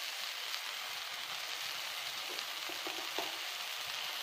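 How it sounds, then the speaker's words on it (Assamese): Spices with turmeric and salt fry in a pan, giving a close, steady sizzle with soft crackles and faint stirring scrapes, without any talking. "এতিয়া এইখিনি মই অকণমান সময়ৰ কাৰণে মিলাই পিনি অকণমান সময়ৰ কাৰণে ভাজি খাম"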